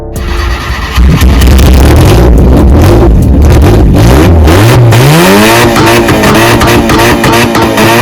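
A Honda Civic EJ9 engine revving hard and close, with a fluctuating throttle roar that climbs, dips and surges repeatedly, then settles into a loud sustained drone.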